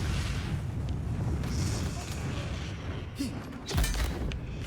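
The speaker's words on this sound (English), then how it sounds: "Oh, I killed that guy in explosion." Dune: Awakening gameplay with muffled booms and bursts of explosions and weapon fire over a constant rumbling game soundscape, one sharp, louder blast standing out near the end.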